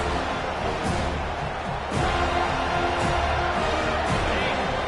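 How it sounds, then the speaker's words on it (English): A football stadium crowd roars for the defense on third down, a dense continuous wall of noise that swells louder partway through. "Decibels rising as the crowd gets behind this defense on 3rd down."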